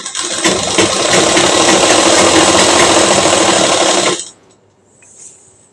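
A sewing machine runs steadily while stitching a kurti, a loud continuous whirring drone for about four seconds before stopping abruptly into near silence.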